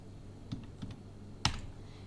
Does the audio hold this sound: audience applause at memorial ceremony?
no